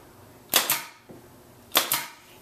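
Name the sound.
pin nailer shooting pins into wood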